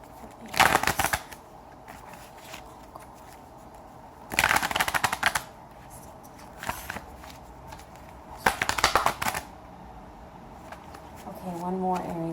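Tarot cards being shuffled in three crisp, rapid bursts separated by pauses, close to the microphone, with a brief voice at the very end.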